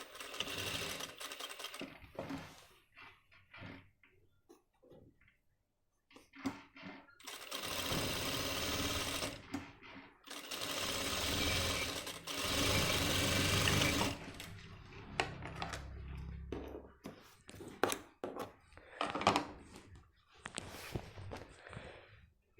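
A sewing machine stitches the front pocket of a men's pant, running in several sustained bursts of close, loud whirring with short pauses and handling noises between runs.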